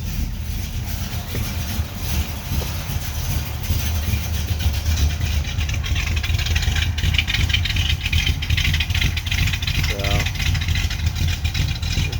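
A 1964 Pontiac GTO engine idles with a steady, deep low rumble that carries on unbroken, moderately loud and close, with some faint background noise.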